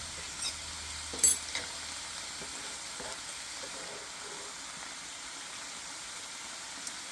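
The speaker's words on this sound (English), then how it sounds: "I'm going to kick up the heat just a little bit to get a sear on them." Pork chops sear in a hot pan with a quiet, even sizzle. A short louder spatter and a couple of faint clinks break in near the start, then the frying hiss goes on softly alone.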